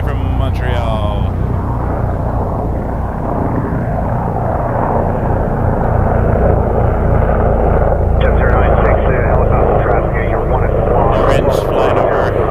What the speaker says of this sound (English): Up next, we got an A220-300. Air Canada 7096 coming in from Montreal.